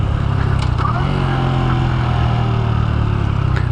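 A small Honda motorcycle idling and puttering at low speed while making a tight turnaround, its steady low engine drone close by and continuous, with no talk.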